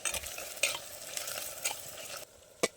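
Onions and green chilies sautéing with salt in a pan, a soft continuous sizzle broken by several sharp stirring scrapes, ending with one loud clink after a brief quieter moment.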